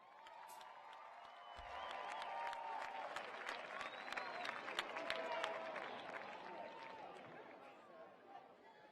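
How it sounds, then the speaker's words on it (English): Audience applause for saxophonist Kim Waters at a live Clark County, Nevada event: a sustained round of clapping from a crowd, swelling slightly and then easing off, with scattered voices mixed in. "Please give a warm round of applause for Mr."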